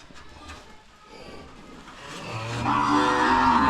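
A cow on a village farm lets out a single rising moo that grows louder and fuller toward the end, over faint background rustle.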